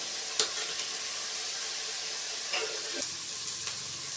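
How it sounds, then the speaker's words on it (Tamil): Onions sautéing with a little salt in a pan for a country chicken rasam, a continuous close sizzle with occasional soft spatula taps and scrapes, no talking. "வெங்காயம் நல்லா வதங்கிடுச்சு."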